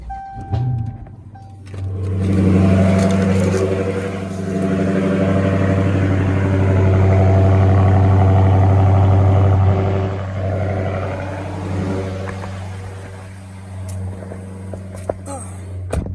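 Dodge SRT 392 V8 starting up after sitting idle for three or four days, settling into a loud, steady close-range idle that swells after cranking and holds before easing slightly toward the end.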